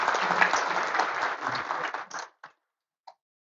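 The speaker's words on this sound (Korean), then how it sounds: "전학종 교수님께 다시 한번 박수드리고요" A seated audience at a lecture on quantum cryptography and quantum computing applauds the speaker in a dense burst that tapers off, ending with a couple of scattered final claps before silence.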